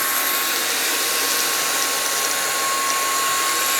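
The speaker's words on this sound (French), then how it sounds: "on va venir faire un petit coup de spray. Hop là, en appuyant sur le bouton spray." A Jimmy PW11 Pro wet vacuum cleaner runs with its spray button pressed, giving a steady, loud, hissing whine of motor and airflow with a faint high tone, constant throughout with no talk.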